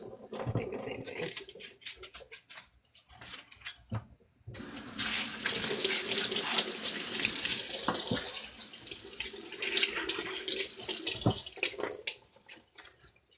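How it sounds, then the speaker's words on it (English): Tap water runs steadily into a sink, loud and close, with a brief pause before the flow resumes; faint talk sits underneath. "Sorry if that water is really loud"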